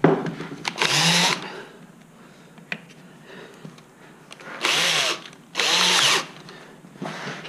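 A power drill bores holes into a wooden long box turkey call in several short, loud, whining bursts, separated by quieter handling and shop noise.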